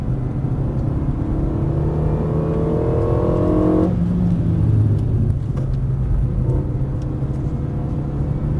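A car on the Dreux race circuit revs hard as it climbs, then its engine drops sharply under braking and picks up again, a loud, continuous roar with no talking.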